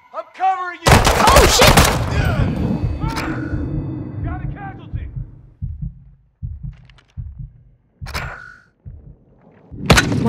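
Gunfire in the video game Call of Duty Modern Warfare 2 (2022): one loud, dense burst early on, followed by scattered softer thuds and single shots, with voices speaking around the shooting.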